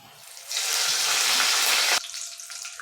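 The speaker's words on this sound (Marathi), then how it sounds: "थोडासा आता कढीपत्ता घालून घेणार आहे" Curry leaves drop into hot oil for a kadhi tempering. A loud, close hiss erupts at once, holds steady for about a second and a half, then cuts off abruptly into quieter background noise.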